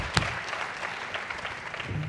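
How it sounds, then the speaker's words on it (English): Scattered applause from an audience at a conference session on franchising, a fairly quiet, diffuse patter of clapping with one sharper clap early on, heard at a moderate distance. "Can I get a round of applause from Springboard Auctions?"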